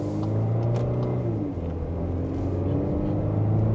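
A 2025 Volkswagen Atlas Peak Edition SUV with a turbo engine accelerates while merging into traffic, a steady close cabin rumble of engine and road noise holding loud throughout, no talking.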